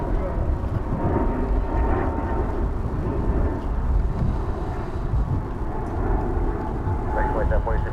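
Boeing 787 Dreamliner airliner of American Airlines at DFW Airport, its engines giving a steady broadband roar that holds loud for the whole stretch, with talk over it.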